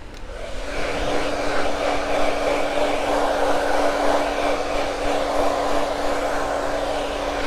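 A handheld hair dryer blows cool air over a freshly cut layered bob, a close, loud and steady whooshing hum with a constant motor tone that starts abruptly and runs unbroken, without talk.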